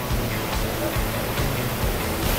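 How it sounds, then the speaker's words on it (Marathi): Water pours steadily at Thoseghar small waterfall near Satara, a dense loud broadband rush heard up close, with no voices. "तर मित्रांनो हा आहे ठोसेघर छोटा धबधबा."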